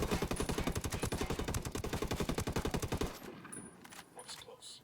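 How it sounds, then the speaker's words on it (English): Rapid sustained machine gun fire in a night raid video game, a dense rhythmic burst of shots for about three seconds, then sparser distant shots and faint voices. "Maybe a machine gun."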